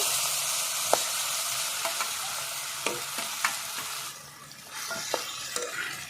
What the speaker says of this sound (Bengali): তেল গরম হয়ে গেছে এবার আমি এই বাটা বরবটি দিয়ে দেবো তেলের পরে